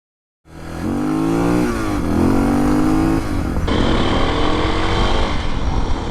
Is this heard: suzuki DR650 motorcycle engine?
yes